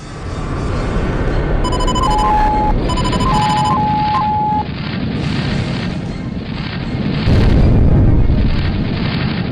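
Spacecraft explosions in the Wing Commander space combat game, loud booming blasts with a rumbling low end and sustained roar, mixed with electronic warning tones and game effects.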